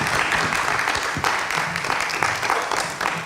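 An audience at a cultural event applauds guests called to the stage, producing a dense, steady wash of clapping that runs throughout with a few sharper claps standing out.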